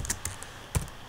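A few sharp clicks from a computer keyboard as quotation marks are typed, about four isolated keystrokes spread over a second in a quiet room.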